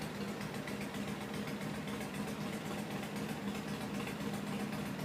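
A pull-start side-by-side vehicle engine idles steadily, a close, even low rumble with a constant hum and no speech, running unchanged throughout.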